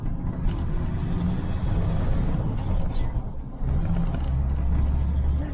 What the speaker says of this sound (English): when you give it full throttle, it falls on its face